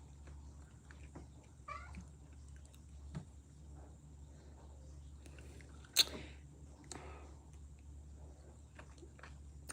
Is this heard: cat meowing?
yes